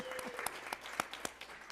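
Sparse clapping at a school governing board meeting, a handful of distinct claps at uneven intervals over quiet room noise, light and not very close.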